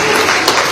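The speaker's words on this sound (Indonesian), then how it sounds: "tepuk tangan bagi diri sendiri kalau saudara hebat" A church audience bursts into dense, continuous applause during a sermon, loud and close, a brief roaring wash of many clapping hands.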